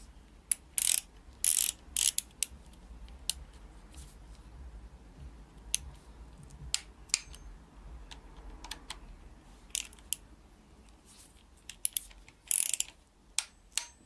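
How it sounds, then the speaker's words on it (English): Torque wrench ratcheting as BMW engine timing parts are tightened, short sharp clicking bursts spaced irregularly over a quiet background, close and moderately loud. "And now you need to tight everything. We're gonna set this torque wrench for"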